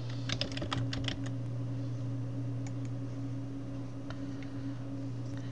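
Someone types a password on a computer keyboard, with a quick cluster of key clicks at the start and a few scattered taps later, over a low steady electrical hum.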